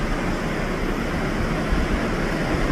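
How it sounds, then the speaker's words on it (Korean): A waterfall of melting ice water pours near icebergs in Endicott Arm, a steady, broad, close rushing roar with no pauses and no voices. "얼음물이 녹아내리면서 형성된 폭포입니다."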